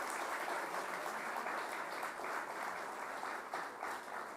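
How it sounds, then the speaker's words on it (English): Steady applause from the audience for dignitaries at the India INX launch of Sensex futures and options contracts, a dense wash of many hands clapping at constant loudness without pause. "let's have a big round of applause for all our dignitaries"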